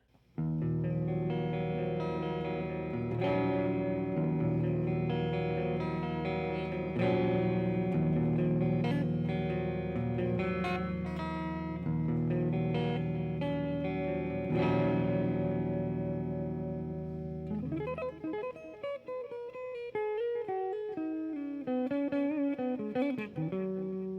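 A Jackson JS32 King V electric guitar played through a clean channel rings out in sustained chords and melodic lines, full and reverberant, with a shift to quicker picked single notes toward the end, no voices.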